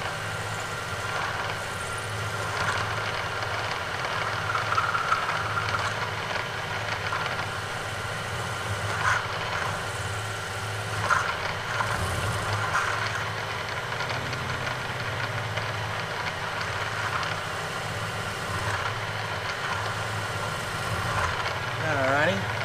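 A machine turns a counterbore tool into copper soft jaws for a vice, giving a steady, close mechanical hum with a faint rattle and small bumps in level, lasting throughout.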